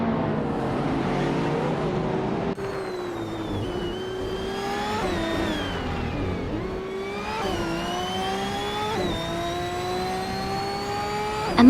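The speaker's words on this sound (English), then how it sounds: "Hope you're ready for some exciting AI car races today" Several race car engines from an AI racing video game whine and rise in pitch with repeated gear shifts, a steady high-revving drone that keeps climbing, dropping and climbing again, loud and continuous.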